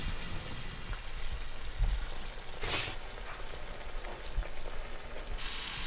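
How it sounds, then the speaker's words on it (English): Broth simmering in a pan for a deer loin and mushroom gravy dish, a soft continuous bubbling hiss close by with a few brief clinks and bumps. "I'm going to go ahead and add my broth. And I'm just going to let that simmer for a while."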